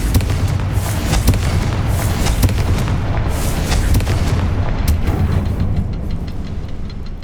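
Booming explosions and crackling impacts from the fire spell Confringo in the video game Hogwarts Legacy, a loud, continuous barrage of bursts with no voices.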